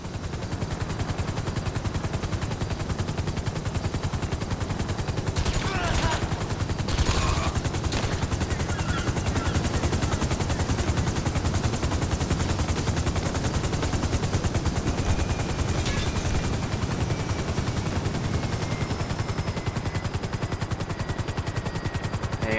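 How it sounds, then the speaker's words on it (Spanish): Rapid sustained gunfire aimed at a helicopter in GTA Online, a dense rattling stream of shots lasting throughout, loud and continuous with a few brighter bursts mixed in. "Vamos a meter un tiro más al helicóptero y yo creo que no despega ya."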